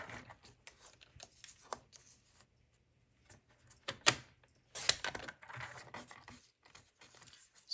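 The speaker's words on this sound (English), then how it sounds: "I'm just gonna do a little bit of trimming with the trimmer" Card stock edges trimmed on a paper trimmer while making a handmade spring card: sparse, close scraping and slicing strokes with brief louder cuts, set apart by quiet gaps.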